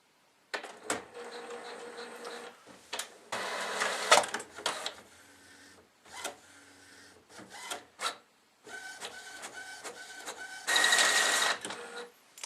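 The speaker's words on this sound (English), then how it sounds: "let's see if it actually starts printing on the printer" A printer prints a page sent over Google Cloud Print, with bursts of mechanical whirring and rasping print-head passes between short pauses, close and fairly loud.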